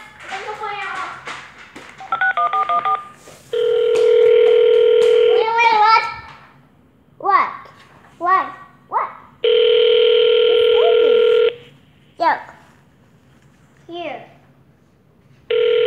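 Calling a phone number for the White House, a run of quick touch-tone dialing beeps gives way to long, steady dial-tone stretches, loud and close, with a person speaking between the tones.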